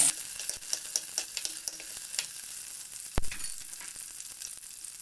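Green chillies fry in hot oil for a Kerala-style prawn curry, giving a steady close sizzle with crackles and a single sharp knock of a utensil against the pan partway through, and no talk.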